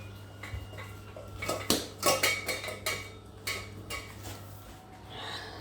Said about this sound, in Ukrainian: ти там граєшся каструльками